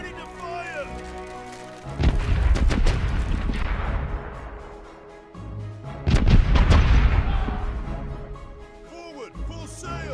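Ship cannons firing in the pirate game Corsairs Legacy: two long rolling bursts of heavy booming volleys, loud and rumbling, each lasting a few seconds, with a character's voice calling out between them.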